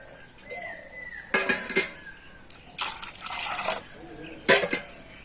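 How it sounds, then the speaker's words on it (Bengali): Grated raw potato is swished by hand in a bowl of water, bursts of watery sloshing and splashing alternating with brief quiet gaps, plus a light knock against the container. "হাত দিয়ে এইভাবে একটু নাড়িয়ে চাড়িয়ে দেবো"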